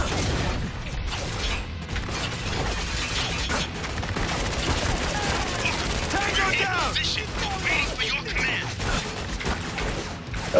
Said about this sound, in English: What the hell is wrong with you shooting at Mr. Crab?